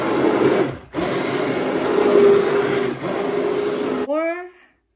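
An electric kitchen blender whirs steadily while blending apple jam, with a short pause near the first second and a brief dip around three seconds before the motor cuts off and a voice speaks at the end.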